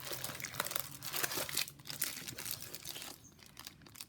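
Brown paper packaging crinkles and crunches during an unboxing of Hobonichi planners, close and continuous rustling with brief pauses, no voices.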